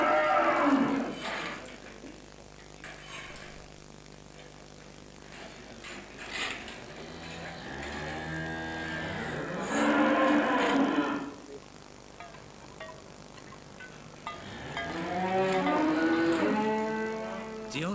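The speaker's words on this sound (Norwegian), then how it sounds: "De har så fine kyr her på Melbu." Cows in an old red Norwegian barn at Melbu give several long, drawn-out moos, some close and loud and others fainter, separated by quieter stretches of barn ambience.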